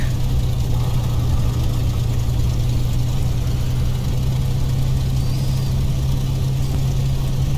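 A light propeller aircraft with an 11-foot propeller taxis with its engine running, making a loud, steady, low droning hum that stays even throughout, with no voices.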